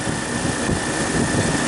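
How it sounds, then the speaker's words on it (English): A refrigeration compressor runs with a steady, close mechanical hum and broadband whir that hold an even level throughout, alone, with no voices. "now the compressor's running."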